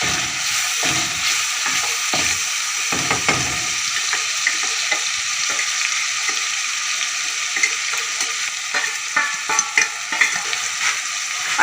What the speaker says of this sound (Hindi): 5 मिनट के लिए हमने मसालों को इसमें भूनना है अच्छी तरह।